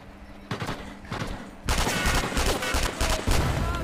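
Gunfire in the VR shooter Sniper Elite VR: a couple of sharp shots, then a dense, loud burst of rapid firing and explosions that continues to the end, with no talk over it.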